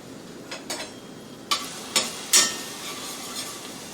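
Chopped garlic hits hot oil in a pan for sautéed kale and beans, giving a soft steady sizzle punctuated by several sharp spattering pops and clicks at close range.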